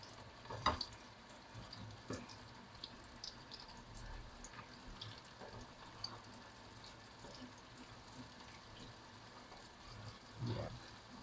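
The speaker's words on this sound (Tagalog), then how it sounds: "Tapos, tsaka natin i-deep fry yung ating pork." Pork deep frying in very hot oil in a pan, a steady soft sizzle with occasional clinks and stirring sounds, and a louder bubbling burst toward the end.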